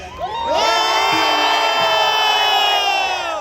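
A large concert crowd in Lucknow cheers and shouts together, a loud sustained roar of many high voices swelling quickly and holding for several seconds.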